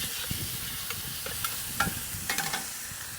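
Chicken fried rice seasoned with Korean BBQ rub sizzles in a wok on a Big Green Egg while wok shovels stir it. The steady hiss is broken by sharp metallic scrapes and clacks, and no one speaks.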